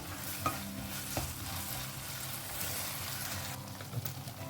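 Chicken sausages scrape and stir in a sizzling sauce in a pan, a steady close frying hiss broken by occasional spatula knocks.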